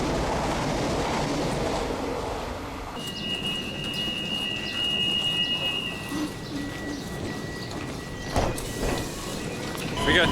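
A passenger train rolls along the rails in rural Portugal, steady rumble and clatter of wheels with a sustained high wheel squeal for a few seconds, heard from on board; a voice speaks briefly.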